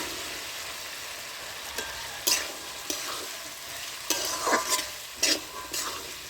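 Boiled peas stirred into a cooked-down masala in a pan for vegetarian ghugni, with a soft background sizzle and intermittent scraping knocks of the spoon, some clustered, none with talk.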